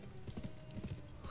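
Horse hooves clip-clopping in the Western video game GUN, a quick, faint, rhythmic trotting patter.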